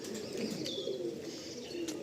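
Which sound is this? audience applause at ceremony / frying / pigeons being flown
pigeons being flown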